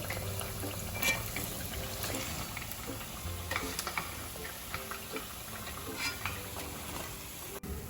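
Bread rolls fry in hot oil with a steady close bubbling sizzle, broken by a few stirring clinks and light knocks against the pan, and no talking.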